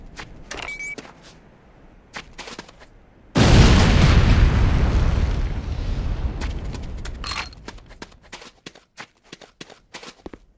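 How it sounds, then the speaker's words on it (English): A C4 charge detonates in Command & Conquer: Renegade, a loud close blast with a long rumbling decay that fades over several seconds, framed by scattered footsteps and small clicks before and after. "move to a safe distance before detonating with your secondary fire"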